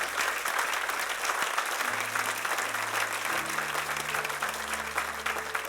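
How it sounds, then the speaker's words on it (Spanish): A church congregation applauds during a Spanish-language sermon, with steady, loud clapping that fills the whole stretch over soft sustained music beneath. "Dale un aplauso al Señor."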